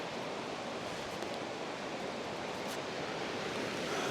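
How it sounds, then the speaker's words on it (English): The Klein River, a mountain river draining into Lake Abraham in the Alberta Rockies, rushes in a steady, loud wash of flowing water with no breaks and no voices. "Welcome to the Klein River."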